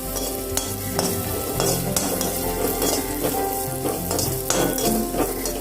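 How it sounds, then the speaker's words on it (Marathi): Raisins roasting in a pan while being stirred, giving a steady close sizzle with repeated scraping strokes of a spoon against the pan, no voices. "लगेच यात मनुके भाजून घेते."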